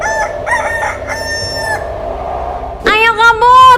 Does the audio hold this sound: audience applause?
no